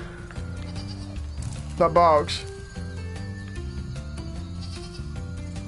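A sheep in Spyro Reignited Trilogy gives a short, wavering bleat midway through, over steady game music while someone talks.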